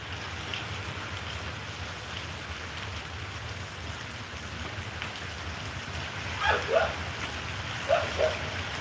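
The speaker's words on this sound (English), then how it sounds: "waiting for the rain to stop." Steady rain falling outdoors, a constant even hiss throughout, with a couple of brief barks or calls near the end.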